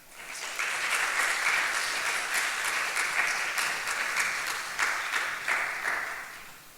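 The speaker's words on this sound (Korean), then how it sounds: "우리 시간 강사 목사님 등단하실 때 큰 박수로 환영하겠습니다." A church congregation at a youth revival service claps to welcome a speaker, a broad, even wash of applause that swells in, holds steady with a few sharper claps, then eases off.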